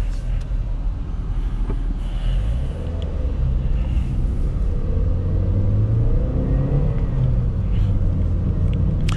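A Toyota Yaris 1.3 driving through traffic, a steady low road and engine rumble from inside the car with soft shifts in pitch as it accelerates, with faint passing noises.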